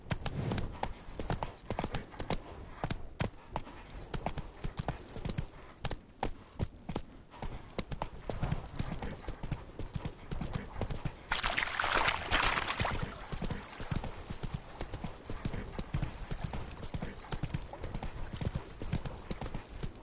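Horse hooves gallop in a steady, rapid clip-clop rhythm while riding in a PS4 video game, continuing throughout at a close, even loudness, with a brief burst of brighter noise partway through.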